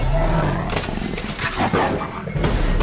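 A tiger roars and growls at length in a film scene set inside a house, loud and close over a dense, rumbling backdrop.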